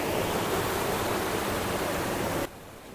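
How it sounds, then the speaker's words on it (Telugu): Rushing water pours down the first stage of the Sariya waterfall in Devarapali near Visakhapatnam, a loud, dense and continuous roar that cuts off abruptly near the end. "అత్యంత ప్రమాదకరమైన ఈ సరియా వాటర్ ఫాల్స్ ఫస్ట్ స్టేజ్ దగ్గర అయితే మనమైతే ఉన్నాము"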